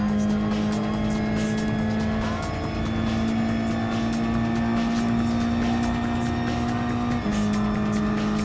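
Alpine 1600S race car in Gran Turismo Sport, a steady loud engine drone holding one pitch for most of the lap before a short dip near the end, with faint tire noise underneath.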